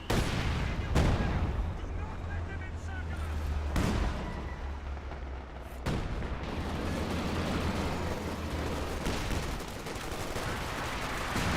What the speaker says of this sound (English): I got a Zis barrage.